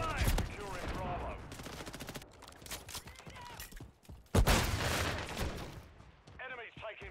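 Gunfire in the video game Call of Duty Black Ops 6 comes as rapid automatic bursts and a loud blast mid-clip, with in-game voices and callouts mixed throughout.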